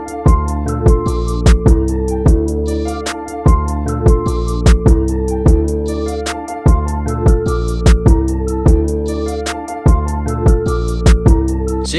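Full trap beat with deep 808 bass and punchy kicks under a melodic loop, a steady loud rhythmic groove with regular drum hits throughout and no voices.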